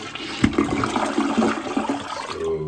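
A toilet flushes close by, a loud continuous gush and swirl of water draining through the bowl, lasting the whole few seconds with no talking.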